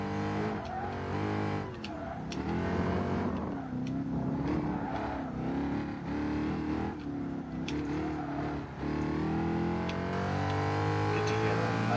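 A race car in the Gran Turismo Sport video game revs its engine, the note rising and falling through repeated accelerations and gear changes, held at a moderate level with a voice talking over it.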